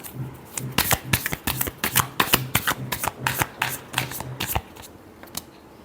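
A deck of tarot cards being shuffled, a long run of quick crisp riffling snaps in steady rhythm, close and clear, fading out near the end.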